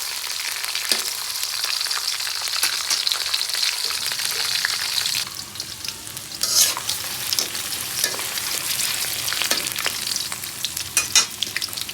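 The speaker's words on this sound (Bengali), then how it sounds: "এখন তেল গরম হয়ে গেছে, তেজপাতা, শুকনো মরিচ ফোড়ন হয়ে গেছে।" Bay leaves and dried red chilies crackle and sizzle steadily in hot oil for a khichuri, a close, continuous frying hiss with occasional pops and a stir midway, no voices.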